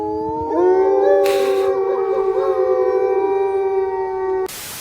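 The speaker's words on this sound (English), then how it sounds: "They howl mostly to communicate." Wolves howl in a sustained, overlapping chorus of several voices, loud and close, rising and holding steady for several seconds before cutting off abruptly.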